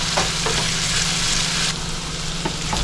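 Chicken teriyaki fries in a pan with a loud continuous sizzle, with a few scrapes and taps as the pieces are stirred.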